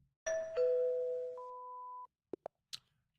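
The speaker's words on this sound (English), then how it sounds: "That gets a ding dong." A synthetic ding-dong chime sound effect plays as two sustained electronic tones, the second stepping up in pitch, followed by three short bright blips at the end.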